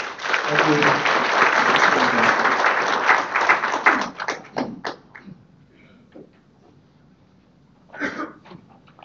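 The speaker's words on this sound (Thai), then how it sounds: "ขอทุกคนปรบมือให้กับท่านอีกครั้งนึงครับ" Attendees at an international zoo and wildlife seminar applaud a keynote speaker, a loud burst of clapping for about four seconds that thins into scattered claps, then quiet, with a short noise near the end.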